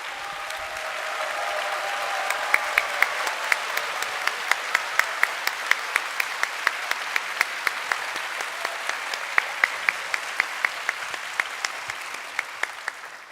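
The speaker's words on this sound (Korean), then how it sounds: "두 분을 환영하는 마음으로 박수로 맞이해 주시기 바랍니다" A church congregation at a Sunday worship service applauds to welcome two speakers, a steady wash of clapping with sharp individual claps standing out, slightly distant and sustained to the end.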